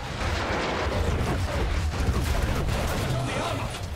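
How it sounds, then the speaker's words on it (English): Heavy battlefield gunfire and artillery in Battlefield 1, a dense continuous roar of rifle volleys and booming shell blasts with no letup, with voices shouting over the chaos. "Heavy terrain fire! Heads down!"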